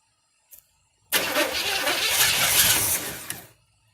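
A barn-find Pontiac Firebird, unstarted in over 20 years, cranks loudly for about two and a half seconds on a first start attempt, then stops abruptly after a brief click.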